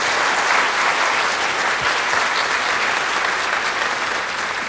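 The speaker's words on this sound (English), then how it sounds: "Well, let's give Casey another round of applause." An audience gives a speaking-event guest, an Olympic speed skating gold medalist, a round of applause: sustained, dense clapping from a large crowd, loud and even for the whole stretch.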